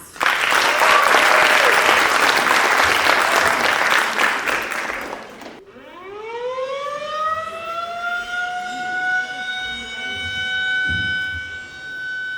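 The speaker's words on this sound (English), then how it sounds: "please give a warm round of applause to our wonderful MYP theater" A school audience applauds the MYP theater class before their performance of The Lion, the Witch and the Wardrobe, a strong burst of clapping that stops abruptly after about five seconds and gives way to a rising, sustained siren-like tone.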